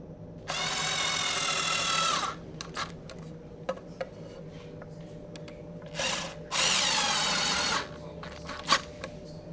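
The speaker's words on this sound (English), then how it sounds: "When you drive the screws, they will pull the shelf into alignment." A power drill drives screws into a wooden shelf in two long, loud whirring bursts with short blips between them, heard up close in a quiet workshop.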